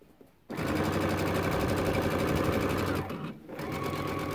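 A sewing machine top stitches a Christmas stocking, running in a loud, close, rapid whir for a few seconds, pausing briefly, then starting again.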